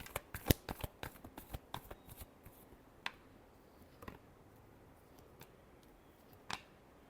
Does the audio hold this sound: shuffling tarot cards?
yes